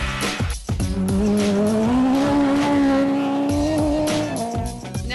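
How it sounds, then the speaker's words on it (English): Motorcycle-engined Toyota Starlet rally car racing on a gravel stage, a loud, sustained high-revving engine note that climbs and holds steadily, with brief dips as it shifts, close and continuous for several seconds. "one car I reckon beats them all for technical innovation is a motorcycle engine Toyota Starlet"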